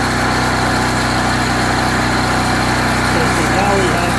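Propane generator engine running steadily just after starting, a loud, constant close-range drone with a buzzing hum and no break.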